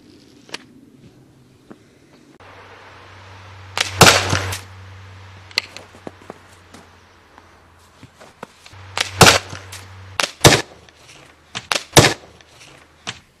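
A folding survival slingshot crossbow is fired at a bottle, giving sharp snapping releases and hard clacking impacts scattered among low mechanical hums and handling knocks, with no talking.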